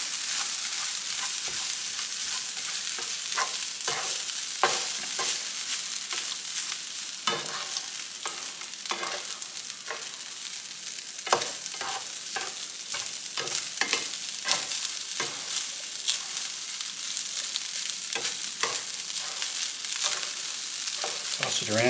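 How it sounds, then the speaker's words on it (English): Rice stir-frying in oil in a pan, tossed around like in a wok: a steady close sizzle with repeated scraping and stirring strokes and occasional clatters over about twenty seconds, no talking. "Toss it around, get all the rice coated in oil so it's a little bit glossy"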